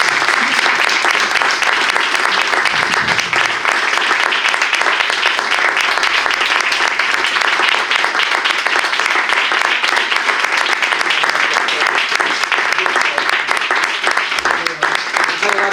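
Sustained, dense applause from an audience at an open meeting with a musician fills the whole stretch, steady and loud from start to finish, with a few voices faintly audible underneath.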